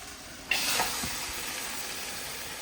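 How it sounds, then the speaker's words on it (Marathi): Mutton goes into hot oil with onions in a pot on a wood-fired chulha stove. It sets off a sudden loud sizzle that settles into a steady, close hiss. "आता हे सगळं मटण शिजायला टाकतोय"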